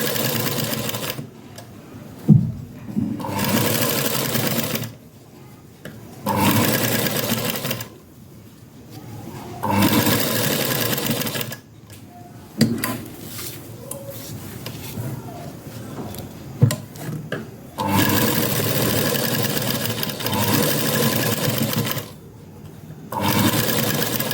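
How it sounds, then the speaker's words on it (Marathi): Sewing machine stitching a dress collar, running in several long steady bursts separated by short pauses, close and clear, with a few faint clicks and handling noises between the runs. "गळ्याला मी हात शिलाई न करता शिलाईच करणार आहे"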